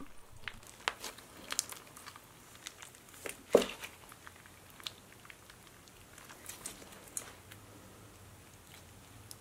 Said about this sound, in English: So this is the first Java chip slime.